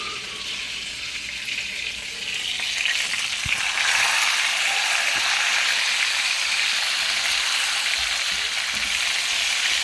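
Chicken wings pan frying in hot oil, a steady broadband sizzle that rises slightly and holds loud and close, with occasional faint clicks of utensils and no talking.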